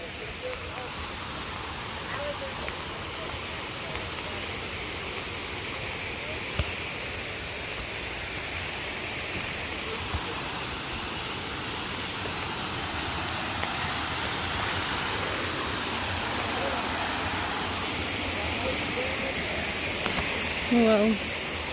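Olmsted Falls waterfall rushing as a steady, broad roar of falling water, constant and fairly even in level throughout, with no voices.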